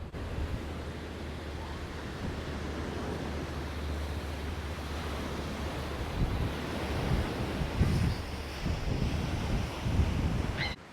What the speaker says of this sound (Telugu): బీచ్కి వచ్చినప్పుడు దాని దగ్గర నుంచి వచ్చే సౌండ్, అలల సౌండ్ ఎంత ప్రశాంతంగా ఉంటుందో మీరే వినండి